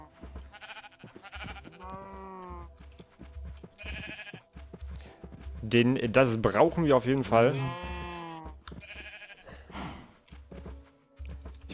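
Sheep in Minecraft bleat in several drawn-out calls, including a loud cluster of overlapping bleats in the middle, while someone talks over the game.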